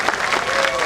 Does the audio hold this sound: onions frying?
no